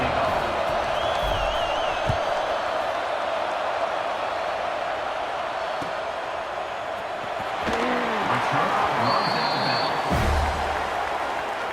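A stadium crowd roars steadily in a college football video game between Colorado and Auburn, a broad constant wash of noise with occasional whistles and brief swells, heard under a commentator's voice.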